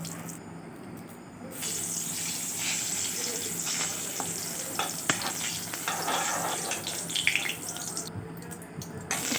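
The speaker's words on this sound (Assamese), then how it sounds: "প্ৰথমতে এনেদৰে তেজপাত আৰু জলকীয়াখিনি গৰম কৰি লৈছোঁ" Bay leaves and dried red chillies sizzle in hot oil in a home kitchen, a continuous close hiss with crackles and pops that grows busier after the first second, with faint clatter under it.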